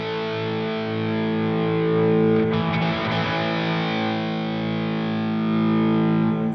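An electric guitar runs through a NUX Trident multi-effects pedal, a sustained distorted chord whose reverb wash swells and fades as an expression pedal moves, steady and close with no talk.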